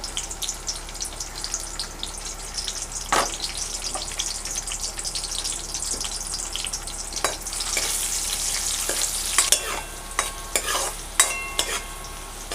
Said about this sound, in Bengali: প্রথমে আমি কাজু কিশমিশগুলো একটু হালকা করে ভেজে নেব।